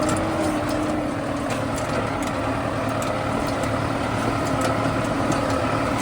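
LDP Strong 30 disc harrow pulled across a field by a tractor, a steady droning engine with continuous rumbling and rattling from the implement, loud and unbroken throughout.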